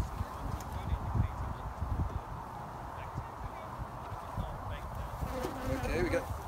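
Honey bees buzz in a dense, steady hum from an open top-bar hive during a mite-count inspection, loud and close, with people talking quietly over the drone.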